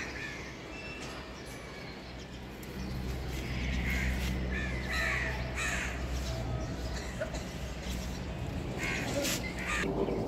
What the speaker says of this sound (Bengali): অনেক কাক ডাকাডাকি করতেছে।